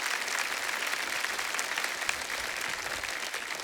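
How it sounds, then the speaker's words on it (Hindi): Studio audience applause on a comedy show, a dense and steady burst of clapping at fairly close range that holds its level for a few seconds without talk. "लिए एक बार जोरदार तालियां"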